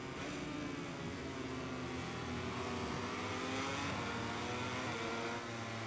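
Racing motorcycle engine in MotoGP 2022 at Portimao, steady high-pitched whine with shifting pitch as the bike brakes downhill, loud and continuous with no talk.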